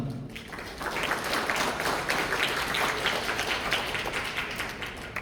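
A conference audience at an IT data-recovery and digital-forensics session claps steadily to welcome a presenter, a broad continuous round of applause lasting throughout, briefly preceded by a voice.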